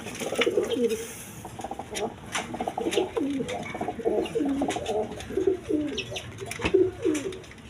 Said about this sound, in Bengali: দেখেন একদম ফ্রেশ কবুতর আমি দেখাই দিতেছি